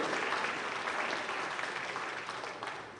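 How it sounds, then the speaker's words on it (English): Conference audience at a food bank partner agency event clapping in steady, dense applause, fairly distant and soft, tapering slightly toward the end with no voices over it. "Let's have another round of applause."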